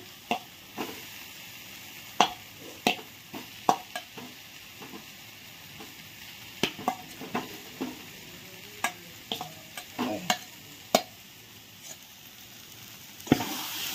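Potatoes fry with spice masala in a pan, sizzling softly throughout while a spatula scrapes and stirs in irregular, sharp knocks and clacks against the pan.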